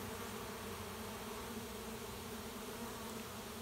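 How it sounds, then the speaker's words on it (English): A late-season swarm of honeybees drones in a steady, dense buzz that stays even and unbroken throughout, with no voices over it. "this was a lot of bees."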